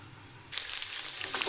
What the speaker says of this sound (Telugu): ఇంకా గ్రీన్ చిల్లీస్ వేసి కాస్త ఫ్రై అవ్వనివ్వాలి.